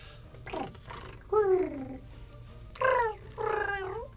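A person imitates a cat with their voice, giving a few short, rolling purr-like growls separated by brief pauses.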